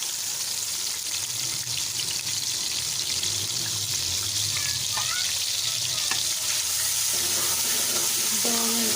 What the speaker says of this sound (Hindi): इसको अच्छी तरह से गरम करके उसके अंदर प्याज टमाटर डाल दें।